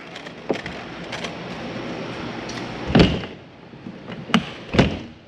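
An RV's exterior door on a 2021 Columbus River Ranch 392MB fifth wheel shut and locked: soft taps and rattles, then three distinct thunks from the latch and deadbolt over quiet room tone.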